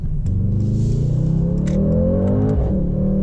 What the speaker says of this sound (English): Torque everywhere with this car and it really barks, especially in race mode.